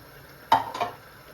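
Fried okra drops into simmering tamarind kuzhambu gravy in a pot, giving one brief splashy sizzle followed by a softer second stir-like rustle. The sound is close, short and alone.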